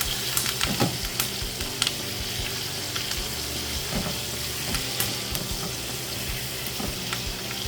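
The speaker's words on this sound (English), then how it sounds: "we're going to get that butter melting" Butter melts in a hot pan for a steak with Cajun shrimp sauce, giving a steady crackling sizzle with small pops and occasional scraping stirs, close and continuous.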